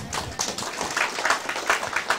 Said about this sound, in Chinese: 呃，掌声鼓励一下。